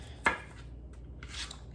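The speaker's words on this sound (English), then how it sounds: "But I'm chopping up the onions." A Cutco knife chops onions on a board, with one sharp close knock followed by softer scraping and cutting sounds over a steady low background.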